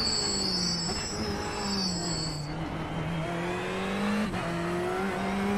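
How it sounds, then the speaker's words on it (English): Brakes squealing on an F1 car in the iRacing simulator, a high, thin whine over a steady engine drone with gliding tones that shift in pitch, continuous and moderately loud. "that sound of the brakes are going to be irritating"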